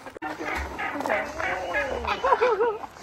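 Several geese honk and cackle together at close range in a noisy, overlapping burst of calls.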